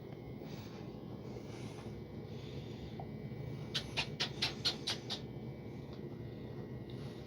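RC airplane gyro twitching its control surfaces once after settings are applied, a quick run of six or seven faint servo clicks and buzzes over a steady low room hum.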